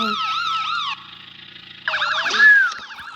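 Police car siren in the DriviX driving game, a loud, close wail that sweeps up and down in pitch, dips briefly, then returns with a faster warbling yelp.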